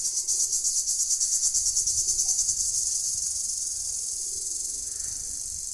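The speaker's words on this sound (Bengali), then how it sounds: "ঝিঝি পোকা ডাক, যা শহরে পাওয়া যায় না" Crickets chirping in a quiet rural setting, a loud, high continuous trill with a fast pulsing rhythm that eases slightly toward the end, no talking.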